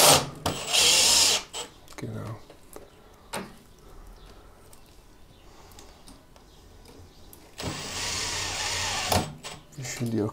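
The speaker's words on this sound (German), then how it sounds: "einfach einen kleineren Akkuschrauber nutzen" Cordless screwdriver driving screws into a Miele washing machine during motor carbon brush repair: two short whirring bursts of the drill, one at the start and one near the end, with quieter handling and a voice between them.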